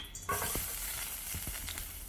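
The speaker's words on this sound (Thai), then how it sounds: "จากนั้นแล้วก็ผัดกระเทียมให้หอมเลยค่ะ" Chopped garlic sizzles loudly in hot vegetable oil in a frying pan over low heat, a constant crackling hiss with a few scraping stirs of a utensil in the pan.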